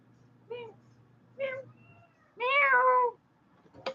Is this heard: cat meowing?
yes